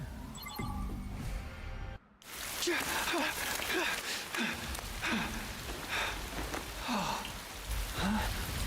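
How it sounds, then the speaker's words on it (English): Steady rain falls in the video game The Hundred Line: Last Defense Academy, a dense continuous wash with a brief dropout early on, some faint voice-like sounds and chirps mixed into the downpour. "Watch it be raining for the next 25 days in-game."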